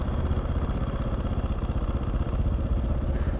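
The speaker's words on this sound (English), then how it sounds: "I just really love that fucking rattle clunky torquey devil engine" A motorcycle engine idles close by with a steady, loud, clattering and rattling rhythm that runs unbroken throughout, a rough, torquey sound with no voices over it.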